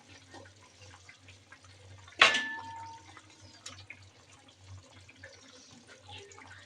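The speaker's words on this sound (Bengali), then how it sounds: "এদিকে চালগুলো ধুয়ে নিচ্ছি" Rice grains are washed in water in a home kitchen: faint, continuous sloshing and trickling, with one brief louder splash partway through.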